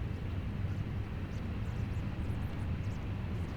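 Steady, low airliner engine drone during a landing approach to Luxembourg runway 24 in a flight simulator game, quiet and constant with no talk.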